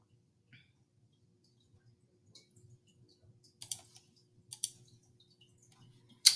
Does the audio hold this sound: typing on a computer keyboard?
yes